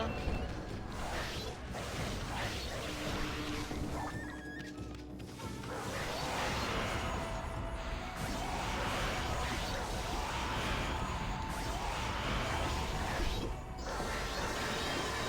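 Dense, busy combat from the Okami video game, with a sword named Denkumaru swung repeatedly in clangs, whooshes and crashes layered over game music and effects, loud and constant throughout.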